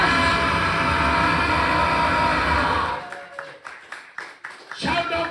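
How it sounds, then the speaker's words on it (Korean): A church congregation at a revival service claps along: a dense, loud wash of clapping and crowd noise for about three seconds, then it thins into a few scattered, separate claps and murmurs. "If you believe, clap your hands unto Jesus and receive a blessing."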